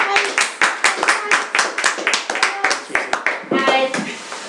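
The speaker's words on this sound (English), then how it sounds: "Round of applause." Studio audience claps for a guest arriving on a dating interview show, a rapid run of sharp, close hand claps with a change in texture near the end, plus some voices mixed in.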